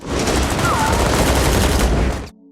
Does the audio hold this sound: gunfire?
yes